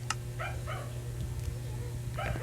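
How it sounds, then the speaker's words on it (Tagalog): Several short yapping barks from a zombie dog in Minecraft, heard in brief bursts over a steady low game hum, with a pause before another cluster near the end. "May naririnig akong zombie na tumatahol."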